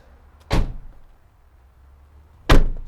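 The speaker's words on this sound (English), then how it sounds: "then you can also open them all the way up. And then they latch in place there too." Rear doors of a 2021 Mercedes-Benz Sprinter 2500 crew van swing open and latch in place, two sharp metallic clunks about two seconds apart, close and loud.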